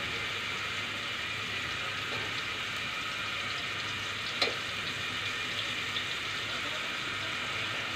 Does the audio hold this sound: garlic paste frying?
yes